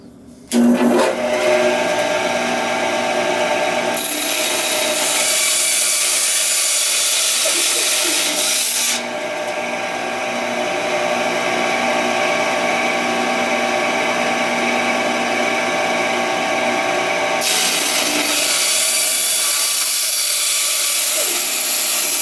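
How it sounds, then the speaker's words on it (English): A bandsaw cuts a small piece of wood for a train whistle with a loud, steady whine that changes pitch and texture as the blade enters and leaves the wood, close by with no talking. "And now over to the bandsaw."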